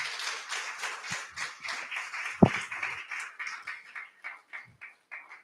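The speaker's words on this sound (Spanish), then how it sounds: "Den un aplauso al Señor." A church congregation claps together in uneven bursts that thin out into scattered, softer claps, heard from a moderate distance.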